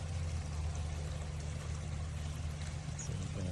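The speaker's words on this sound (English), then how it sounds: "See that the pump is very powerful. It's throwing a lot of water out." A cordless WYBOT C1 robotic pool vacuum in an inground pool blasts water out through its powerful pump, a steady rushing, pouring gush over a low mechanical hum.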